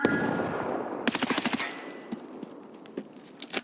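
Gunfire in the video game ARC Raiders, with a loud rapid burst of automatic shots followed by scattered single cracks and distant pops across a noisy battlefield.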